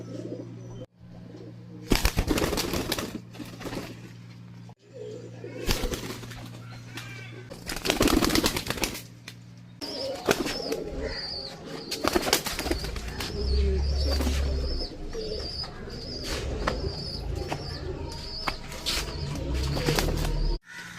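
Pigeons cooing nearby with bursts of loud wing flapping, several sharp flurries scattered through a long stretch of low cooing and rustling.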